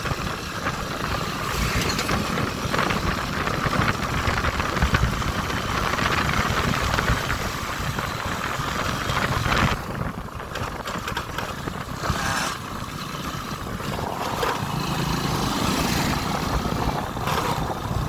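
A motorcycle engine runs steadily nearby at a petrol pump, a rough continuous rumble with slight dips in intensity, no voices.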